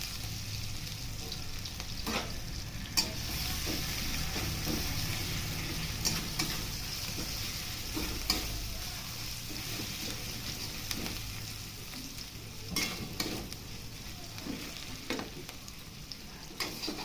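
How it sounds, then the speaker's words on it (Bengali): Grated ginger fries in a pan with green chillies for a vegetarian singara filling, making an even, moderately quiet sizzle with scattered clicks of stirring throughout. "আদাটা একটু ভাজা ভাজা হয়ে গেলে"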